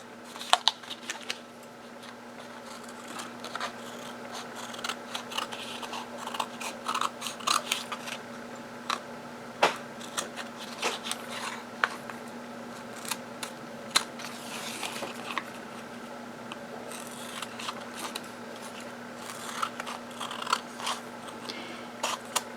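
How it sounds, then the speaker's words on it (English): Scissors snipping away excess paper while making a junk journal, a run of short crisp cuts and paper rustles repeating steadily at close range, with no talking. "And then you want to cut off all the excess."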